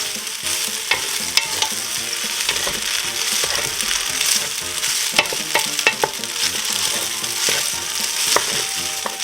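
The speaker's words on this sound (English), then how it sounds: "Then I'm going to give this a good stir." Lazy pierogi egg noodles with onions scraped and stirred in a pan, with steady sizzling frying and repeated sharp utensil scrapes and clinks throughout, close and continuous, no talking.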